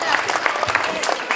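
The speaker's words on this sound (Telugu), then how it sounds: "త్రివేణికి అందరూ కూడా చప్పట్లు కొట్టాలి" A crowd at a Sankranti village celebration claps for Triveni, a brief burst of dense, close applause.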